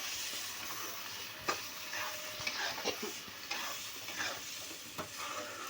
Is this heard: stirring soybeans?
yes